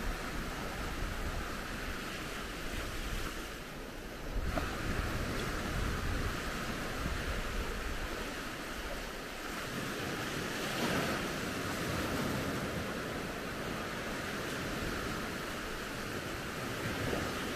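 Sea waves wash steadily onto an eroded beach at 2 Mai on Romania's Black Sea coast, a continuous broad roar of surf with gusty wind noise across the microphone and no voices.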